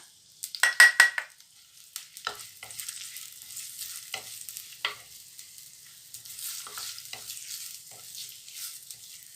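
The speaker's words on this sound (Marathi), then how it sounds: "तेल आणि तूप आपलं चांगलं गरम झाल्यामुळे आपण हा कापलेला कांदा आहे हा सगळा टाकूया" Chopped onion drops into hot oil and ghee for chicken liver, giving a loud initial splash of sizzling followed by a steady, quieter crackle with occasional spoon scrapes against the pan.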